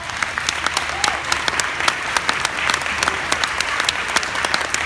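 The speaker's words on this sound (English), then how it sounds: "I think we should keep the clapping going" Dense, lively clapping from an audience at a women's excellence award ceremony follows an acceptance speech, steady and close with crisp individual claps standing out.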